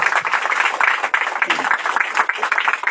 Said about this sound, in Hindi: तो आइए हम सब कोई ताली बजाते हैं